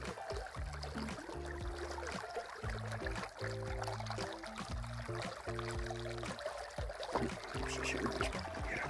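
Ljuča river in Montenegro flowing past an angler fishing for grayling, a constant close rush of water with low tonal patterned bursts layered underneath and no talking.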